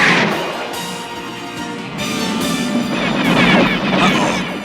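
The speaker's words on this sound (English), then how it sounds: "They're shooting back!" Cartoon gunfire erupts as enemies shoot back, a loud, chaotic stretch of blasts and booming impacts that swell and recede over several seconds, with no speech over it.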